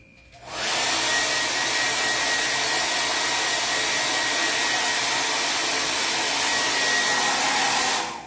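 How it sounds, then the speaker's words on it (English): A blow dryer runs steadily at close range, drying a wax-resist bead craft design; a broad, even whoosh starts after a brief pause and holds nearly unchanged for about seven seconds before cutting off. "So I'm going to dry this with the blow dryer."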